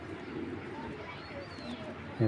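Pigeons held by a breeder cooing in low, soft murmurs through a short stretch, close by amid room noise, with a brief louder bump near the end.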